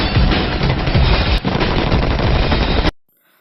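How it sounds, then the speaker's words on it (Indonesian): Dense, loud gunfire from the Indonesian action film The Raid, a continuous rapid machine-gun barrage with heavy low thumps lasting nearly three seconds before cutting abruptly to silence. "para sniper juga berhasil menembak seorang polisi yang sedang menyandera seorang tahanan"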